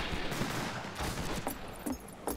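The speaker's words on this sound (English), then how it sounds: "So yes, I am using a shotgun for once." Shotgun blasts from the Fistful of Frags video game come in a fast, dense volley, with several muffled, mid-distance reports over a busy, noisy background.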